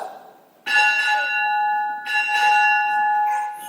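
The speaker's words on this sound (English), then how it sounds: "Time orderly, strike 4 bells." A ship's bell is struck at a naval retirement ceremony, ringing out loud and close in two clear, sustained pairs of tones that decay slowly, with no talk over them.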